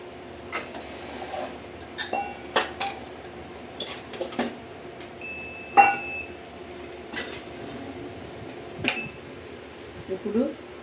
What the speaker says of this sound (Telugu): ముందుగా అయితే మనం స్టవ్ వెలిగించుకోవాలి, దాని మీద కడాయి పెట్టుకోవాలి.